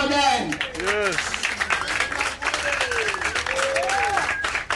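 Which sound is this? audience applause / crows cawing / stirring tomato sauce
audience applause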